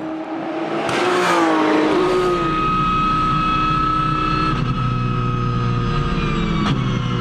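Race cars, including a Ferrari numbered 4, at the start of a race at the Anneau du Rhin circuit: loud engines rev and accelerate together, a sustained roar that settles into a steady drone.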